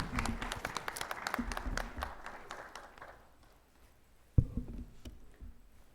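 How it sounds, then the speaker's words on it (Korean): An audience at a university president's inauguration ceremony claps in a burst of scattered, moderately loud applause that fades away, followed by a few isolated claps and a thump. "용인대학교 제9대 총장으로 취임하시는 한신주 총장님께 큰 박수 부탁드리겠습니다"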